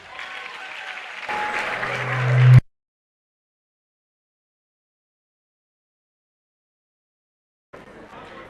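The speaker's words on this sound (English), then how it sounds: "please give a round of applause" An audience at a regional school quiz championship final applauds, the clapping building with tones underneath for a few seconds before cutting to silence, then returning faintly near the end.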